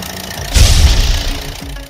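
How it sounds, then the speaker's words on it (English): A green tractor with a baler revs up abruptly into a loud, low knocking engine rumble that holds for about a second and then eases down, with no talking. "Green tractor with baler."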